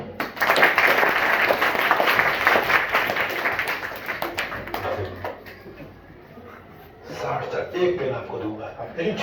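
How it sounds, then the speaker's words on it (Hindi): A classroom bursts into dense, rapid clapping that fills the first half, then fades into chuckles and talk. "40 तालियां।"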